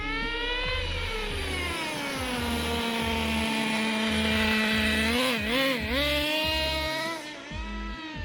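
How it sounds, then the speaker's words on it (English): A Traxxas T-Maxx 2.5 nitro RC truck engine screams at high revs. The pitch sinks steadily, then wobbles up and down as the two-speed transmission shifts, and the sound stays loud and close with a rapid buzzing rattle. "So you can always hear it when it shifts back into first, because the RPMs will raise."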